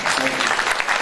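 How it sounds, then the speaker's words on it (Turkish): Audience clapping for a Turkish folk music choir at a spring concert, a brief, dense burst of applause from a crowd filling the room. "Koromuza kuvvetli bir alkış."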